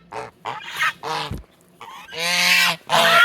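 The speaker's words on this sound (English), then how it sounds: "They're brown Chinese geese." Several loud, close honks from brown Chinese geese, coming in irregular bursts with short gaps, the later calls longer and more sustained.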